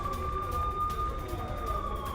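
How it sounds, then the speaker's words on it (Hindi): An air raid warning siren sounds over parts of Srinagar, a steady high wail holding one pitch, faint and distant, continuous through the short span with no voices. "श्रीनगर के कुछ इलाकों में सायरन बजता हुआ"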